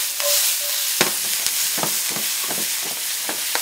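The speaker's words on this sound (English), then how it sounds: "your Spanish onions, your chopped garlic, and you want to let these sear a bit." Spanish onions and chopped garlic searing in browning butter, a close crackling sizzle broken by sharp scrapes and clicks from stirring with a utensil.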